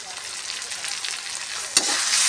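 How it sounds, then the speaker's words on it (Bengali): Prawn curry sizzles in a pan as ground turmeric, red chilli and coriander spices are stirred through, a steady close crackle with a sharp spatula scrape near the end. "ভালো করে মশলাটার সঙ্গে মিশিয়ে নিই"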